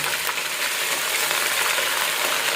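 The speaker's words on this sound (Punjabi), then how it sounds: "ਆਇਲ ਗਰਮ ਕਰਕੇ ਤੇ ਵਿੱਚ ਲਸਣ ਤੇ ਅਦਰਕ ਦਾ ਪੇਸਟ ਪਾ ਦਿੱਤਾ ਅਸੀਂ ਉਹਨੂੰ ਲੱਗੇ ਆ ਫਰਾਈ ਕਰਨ।" Garlic and ginger paste frying in hot oil as a tempering for a meat dish, a dense, bright continuous sizzle at close range without speech.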